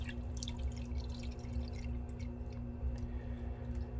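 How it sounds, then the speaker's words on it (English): Water with debris being dumped out of a whole house filter housing, a steady trickling and dripping over a constant low hum, close and moderately quiet. "putting a little water in it, okay? And just dumping it so I can get the junk out of it at the bottom"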